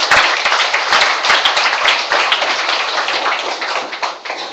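An audience at a neighborhood New Year's gathering in Jongno-gu, Seoul, breaks into steady, dense applause after a speech, loud and sustained throughout with no one talking over it.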